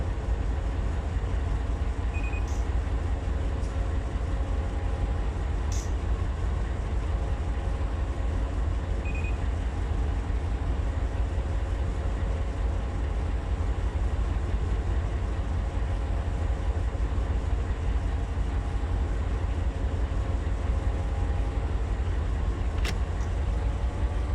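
A heavy freight train of about 7,500 tons and nearly 4,000 feet in the Run 8 Train Simulator game rolls steadily with a constant low rumble and drone, plus a few faint clicks and squeaks over it.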